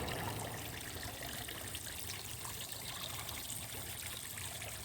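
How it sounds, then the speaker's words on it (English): Water trickles steadily into a backyard fish pond, a soft continuous splashing and babbling that stays even and fairly quiet from start to end with no voices. "The water noise and the fish is so relaxing."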